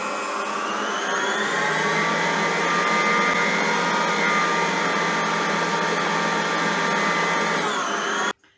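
Electric mixer whisking a yeast sponge for Easter kulich dough, a loud steady whirring drone that holds for about eight seconds before cutting off abruptly.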